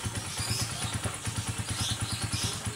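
A repaired motorcycle engine, fixed after a faulty starter relay, runs at a steady idle with even rhythmic thumping pulses, close and moderately loud, with no talk.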